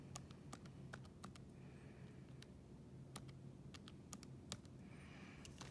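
Fingers tap quickly on a calculator keypad, producing a series of faint, light, irregular clicks against a quiet, low hum.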